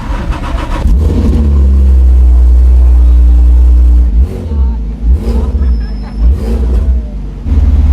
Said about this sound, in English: It's based on a roof-tuned Porsche engine, so you might be able to hear that